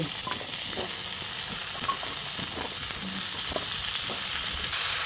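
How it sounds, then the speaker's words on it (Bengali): Pointed gourd (potol) and potatoes fry on a high flame. A constant, close sizzle runs throughout, with small crackles and stirring scrapes. "এবার আমি এই পর্যায়ে কেটে রাখা আলুগুলোকে দিয়ে দিচ্ছি"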